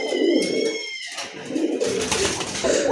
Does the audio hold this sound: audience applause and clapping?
no